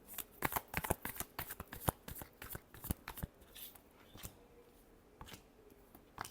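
Tarot cards being shuffled by hand, a quick run of crisp riffling snaps and slaps, close and quiet, thinning into a few scattered flicks toward the end.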